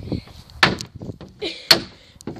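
A door in a horror video game slams shut with sharp impacts, two loud bangs standing out among softer knocks and thuds, with brief voice sounds around them.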